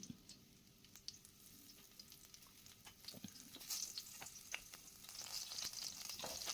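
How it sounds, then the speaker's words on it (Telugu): A green chili and small pieces of chopped ginger fry in hot oil, a steady close sizzle with crackling pops and occasional stirring scrapes that grow slightly louder toward the end. "ఆయిల్ వేడెక్కిన తర్వాత అందులో ఒక పచ్చిమిర్చి కొంచెం అల్లం చిన్న ముక్కలుగా కట్ చేసుకున్న అల్లం వేసుకొని ఫ్రై చేసుకోవాలి"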